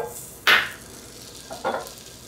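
A tablespoon of butter hits a pan heated over medium-high burner heat, giving two short, sharp hissing bursts about a second apart, close and fairly loud, with quiet background between them.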